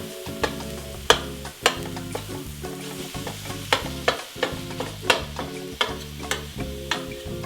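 Ground turkey browning in a hot pan, with steady sizzling and frying crackle and repeated sharp scraping taps as a utensil mashes and stirs the meat, fairly close and alone without speech.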